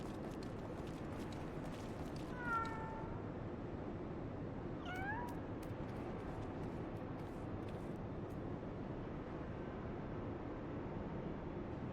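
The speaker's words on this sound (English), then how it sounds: "It's a kitty." A cat in the Final Fantasy XIV video game gives two short meows a couple of seconds apart, moderately loud, over a constant dense ambient wash, followed by a long stretch of only background noise.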